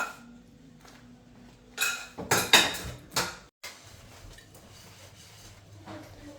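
Dishes, pots and pans clatter and clink in a home kitchen sink, a quick cluster of loud knocks and scrapes in the middle, then quieter rinsing and handling.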